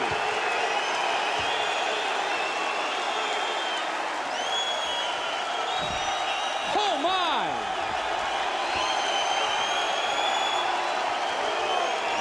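A packed arena crowd roars continuously after a UFC knockout, a dense wall of cheering and whooping heard at a distance, while a commentator's voice cuts in briefly over the noise.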